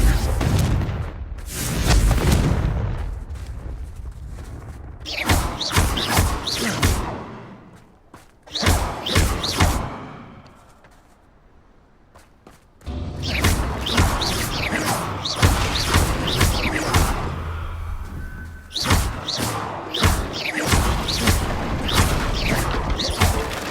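Repeated Confringo blasting spell explosions in the Hogwarts Legacy video game, a long run of loud booms, thuds and crashing impacts with one brief lull midway, busy game effects throughout.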